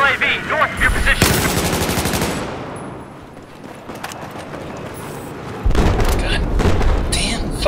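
Bursts of machine gun fire and heavy explosive booms in a Battlefield 4 match on the Hainan Resort map, loud and dense at the start, easing off in the middle, then surging back, with voices talking over the game.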